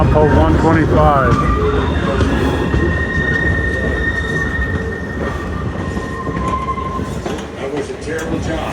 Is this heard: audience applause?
no